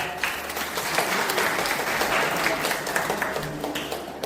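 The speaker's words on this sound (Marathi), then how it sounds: "टाळ्या." Audience applause at a lighthearted quiz session on the Buddha and his Dhamma, a steady round of clapping from a gathered group that holds throughout, with faint voices underneath.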